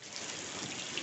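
Heavy rain pours down outdoors in Florianópolis, a dense, steady hiss of falling water that runs through the whole second, fairly faint and with no voices.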